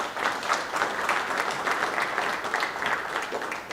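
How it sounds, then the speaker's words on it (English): A crowd applauds for sponsors at the 2024 WPA World Pool Championships semi-finals in New Zealand, producing a continuous, even wash of many hands clapping at moderate volume from a spread-out audience, without speech. "Let's hear a round of applause please for our official partners."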